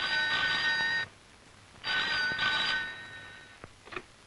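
An old telephone bell rings in two loud, shrill bursts with a pause between, followed by a couple of faint clicks, in a Tamil film scene.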